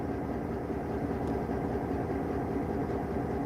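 Locomotive engine idling in a rail yard at night, a steady heavy low rumble with a constant throb and no breaks, fairly close and continuous.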